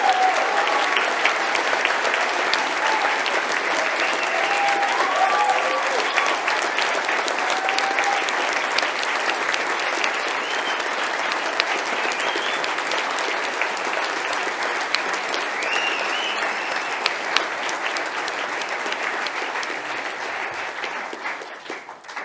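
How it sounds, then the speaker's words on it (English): A large audience at a university graduation ceremony applauds graduates, a dense, sustained roar of clapping that holds steady for over twenty seconds before tapering slightly at the end. "Please now give our graduates a huge round of applause."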